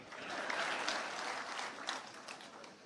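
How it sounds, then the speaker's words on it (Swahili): Faint, distant audience applause at a political summit, a sustained patter of many hands clapping that swells slightly and then begins to fade. "Makofi kwangu basi."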